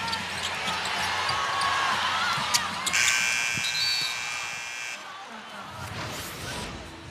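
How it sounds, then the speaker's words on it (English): A loud electronic game buzzer sounds for about two seconds over WNBA arena crowd noise and squeaking sneakers, followed shortly by a short referee whistle blast. "So buzzer first, then whistle."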